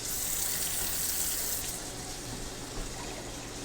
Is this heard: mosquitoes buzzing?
no